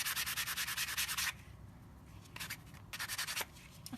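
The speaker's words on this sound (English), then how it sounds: "now I'm taking my sanding block and I'm rubbing it just a little bit" Gritty rubbing of a sanding block scraping back and forth over a pressed penny in quick rhythmic strokes, pausing briefly between bursts.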